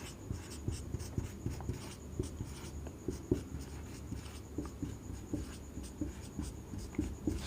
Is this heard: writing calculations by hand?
yes